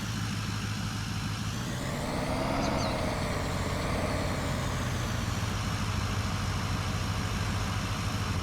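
Steady idling drone of a 9470 RX tractor engine in the Farming Simulator 19 video game, a continuous low rumble with a slight rise in pitch partway through, holding at an even level throughout.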